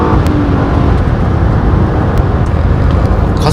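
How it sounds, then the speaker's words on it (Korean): Nissan Pathfinder full-size SUV accelerating in sport mode, a steady loud engine drone heard from inside the cabin with constant road rumble throughout, no voices over it. "아무래도 스포츠 모드에서는 가속 페달에 좀 더 가속 반응이 좀 더 예민해지죠."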